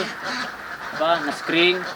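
Ducks at a duck farm give a few nasal quacks over a couple of seconds, close by, with people talking around them.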